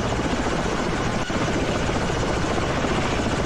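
A Chinook helicopter in the game Ravenfield flies with a loud, steady rotor roar and dense engine noise that fills the whole scene without pause.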